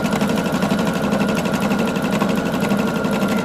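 A sewing machine runs a wide blanket stitch along the edge of an appliqué on a southwest quilt border, giving a steady, close, evenly pulsing whir with no pauses and no talking.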